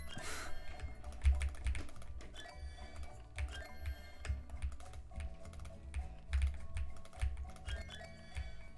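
Keys clack irregularly on a heavy computer keyboard, with quiet, close-up taps and a few heavier keystrokes in a fairly soft room, and no one speaking.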